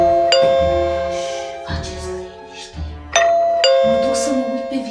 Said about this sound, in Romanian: Mă nebunește soneria asta,